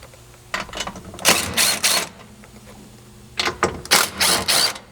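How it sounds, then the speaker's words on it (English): A hand ratchet with a 13mm socket works the seat nuts on a Polaris Ranger 1000, giving two bursts of fast, close clicking a couple of seconds apart over a quiet room hum. "you'll need a 13mm socket to remove the 4 nuts holding it in place here"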